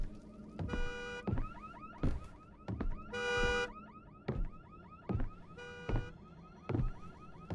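Repeated car horn honks in the horror video game Visage, sounding as several separate bursts spaced across the stretch, fairly loud and close, over a dark ambient game background with no talking.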